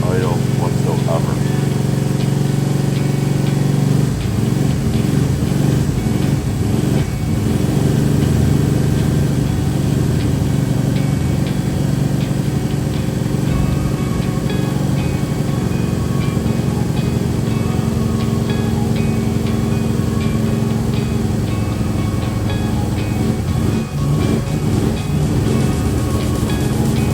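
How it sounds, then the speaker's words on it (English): A car engine with a 750 Dominator carburetor runs steadily at about 2,500 RPM during hydraulic flat-tappet camshaft break-in, a loud, constant droning hum that continues under someone speaking throughout. "It is imperative while braking in a hydraulic flat cap camshaft that you do not let the engine idle whatsoever."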